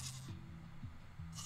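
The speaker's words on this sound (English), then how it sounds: "Whoa, we got goats in Minecraft." A goat bleats faintly in Minecraft's Caves and Cliffs update, three short wavering bleats in quick succession over a soft steady background, with no one speaking.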